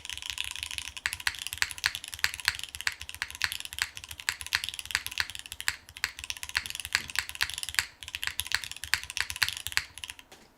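Rapid, continuous typing on a Scuff Proto mechanical keyboard gives close, crisp clacky keystrokes in a dense, uneven rhythm, with a brief pause near the end before the typing resumes.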